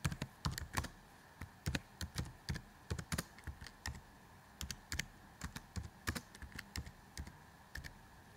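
Computer keyboard typing a name into an empty field during a software walkthrough, with steady, closely miked key clicks in quick bursts and brief pauses, alone without speech.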